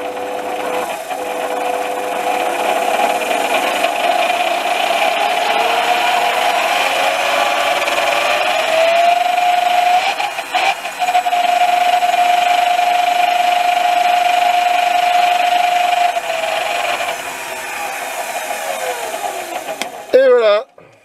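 A Sieg C3 metal lathe, just back from a gearbox repair, runs at low speed with a steady motor whine and a rising tonal hum that holds level before winding down near the end.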